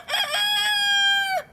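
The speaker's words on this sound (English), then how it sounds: "This one's going to have a rooster in it as well" A rooster crows loudly and close by in a bee yard, one full cock-a-doodle-doo with a choppy opening and a long, held, strongly pitched final note that cuts off sharply, heard alone.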